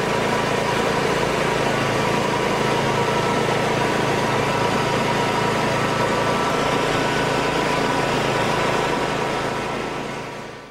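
An Aztec Ultra Grind propane concrete floor grinder runs with resin bond diamonds, giving a loud, continuous engine drone with a broad grinding hiss that stays steady before tapering off at the end.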